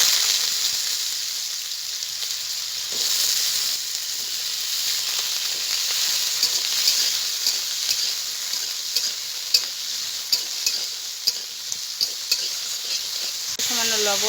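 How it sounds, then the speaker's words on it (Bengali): Potatoes fry in hot white oil in a kadai, giving a loud, steady sizzle with scattered crackles and pops over about fourteen seconds, with no talking. "তেল গরম হয়ে গেছে, আমি আলুগুলোকে ভেজে নেব।"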